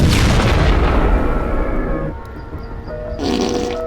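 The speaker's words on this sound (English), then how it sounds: "certain combinations cause different side effects, like spontaneously exploding" A loud, deep booming explosion from a character spontaneously exploding in the video game Schedule 1, a heavy blast that rumbles and decays over a couple of seconds, followed by faint ringing game tones.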